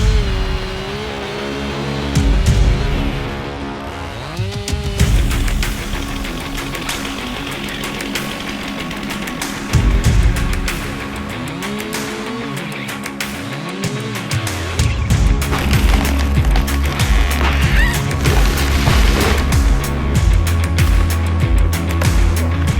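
A chainsaw roars continuously as firewood rounds are cut at a remote lodge, its engine pitch rising and falling through repeated revving bursts. It stays loud and close throughout.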